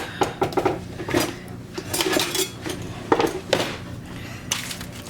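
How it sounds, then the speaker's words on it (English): Utensil scraping and clinking against a pan while roasted asparagus and tomatoes are stirred around, a run of close, irregular metallic clatters and rubs. "I'm just kind of stirring it around a little bit"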